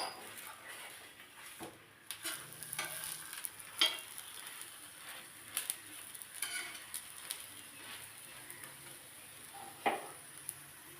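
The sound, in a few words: patishapta pancake frying in a pan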